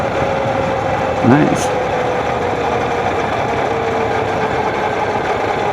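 A 1200cc motorcycle engine runs at very low speed, a steady low rumbling drone throughout with a brief higher sweep near the start, and a short spoken word over it.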